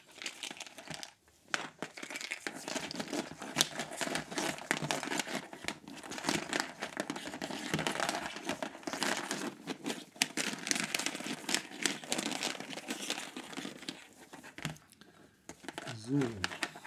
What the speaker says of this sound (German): Ich muss wieder mischen.